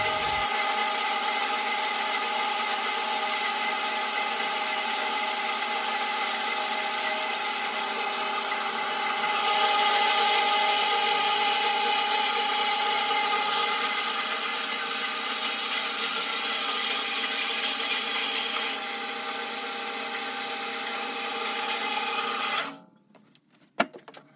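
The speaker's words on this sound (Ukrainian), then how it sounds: "станок ріже не так швидко, як хотілося б" A Kraft&Cele KD1734 band saw cuts through wood in a garage workshop, a long continuous motor whine with a steady cutting rasp that runs unbroken before stopping abruptly near the end, close and alone.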